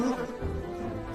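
A bee buzzes loudly and steadily in a drama scene, a continuous insect drone lasting about a second with no speech.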